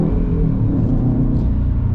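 A Subaru WRX STI engine heard close, with a steady low rumble and slight throttle variation, loud and uninterrupted without voices.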